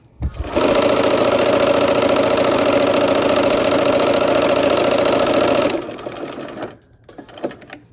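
A sewing machine runs a long seam on a Christmas quilt block, a loud, steady close-up whir lasting about five seconds before stopping, followed by a few faint handling noises.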